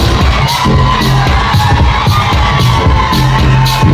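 A pageant audience at a Miss Africa contest cheers and whoops, loud, packed crowd noise with shouts and yells rising over a steady roar, sharp bursts punctuating the din throughout.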